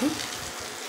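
Onion, tomato, green chilli and peanuts frying in a pan for aloo dum, giving a brief, soft, steady sizzle with a faint voice at the start.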